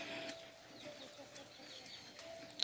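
A chicken clucking in a slick, mossy backyard, a few faint short clucks and chirps spread over a quiet outdoor background.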